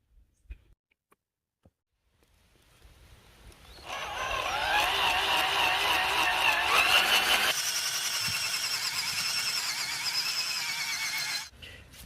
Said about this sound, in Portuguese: Então eu furei um pouco a metade com essa broca aqui.